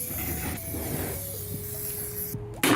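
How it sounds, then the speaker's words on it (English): A spray paint can spraying paint on furniture, a steady close hiss held for a couple of seconds before a sharper, louder burst at the end, with no voices. "Oops, I accidentally spray painted my hand here."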